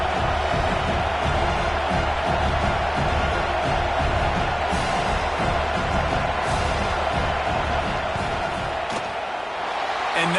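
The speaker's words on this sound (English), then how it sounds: "This crowd trying to do its part to get inside the kicker's head." A packed stadium crowd at a college football game, Houston at Iowa, roars loudly and continuously during a field goal attempt, a sustained wall of cheering and yelling.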